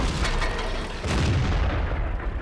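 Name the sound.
Bat Chat tank gun firing in World of Tanks video game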